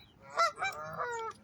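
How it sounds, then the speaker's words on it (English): Swans at a lake give a short run of nasal honks, three calls close together, fairly near and clear with no speech over them. "I'm glad the swans came over."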